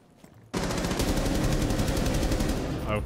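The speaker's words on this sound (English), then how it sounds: "I just shot through a wall a bunch and killed somebody." Rapid automatic gunfire from a first-person shooter video game, a loud burst of evenly spaced shots fired through a wall that starts abruptly after a brief quiet moment and runs to the end.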